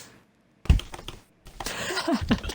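A person voices an imitation of keyboard typing in a casual podcast setting: a short burst of mouth clicks and taps, a pause, then a longer rattling run with hummed tones mixed in.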